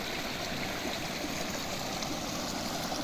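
Steady, soft rush of running water from a small stream near a waterfall in the Carpathian mountains, continuous and fairly quiet with no voices.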